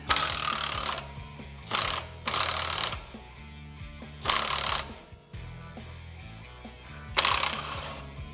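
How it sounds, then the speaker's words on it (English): An impact gun loosens a captured nut and bolt on the shock assembly of a 2021-2022 Ford Bronco during a Superlift kit install, firing in several loud rattling bursts separated by short pauses, close. "it's gotta put an impact gun on the bolt, and that will free up our shock assembly"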